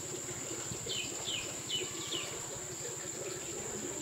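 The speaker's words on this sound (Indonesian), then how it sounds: "Coba dengar suara hutannya." Quiet forest ambience on a coffee farm in Takengon, Aceh, Indonesia, with a few short bird chirps and a steady high insect drone over soft background noise.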